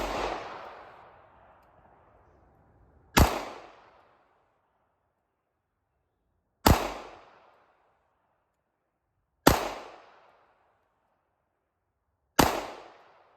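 Five sharp shots from a Steyr M9 A2 MF pistol, spaced about three seconds apart, each a loud crack with a fast-decaying tail outdoors, with no talking between them.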